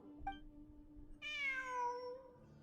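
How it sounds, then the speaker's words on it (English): A cat meows inside the video game Genshin Impact, first a short chirp and then a longer, clear, rising-and-falling meow, close and distinct over a faint background tone. "It really is a cat."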